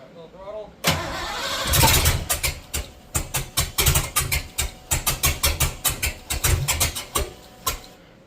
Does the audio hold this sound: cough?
no